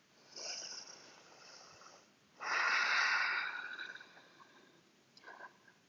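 Three deep exhaled breaths during a vinyasa yoga session in downward dog pose: a soft first breath, a longer, stronger middle one, then a short faint puff, with quiet pauses between and no talk.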